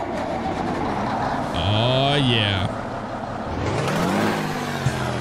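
A Kenworth 521 truck engine cranks and fires up in American Truck Simulator, rising to a loud rumbling idle with a whine, while someone talks briefly over it.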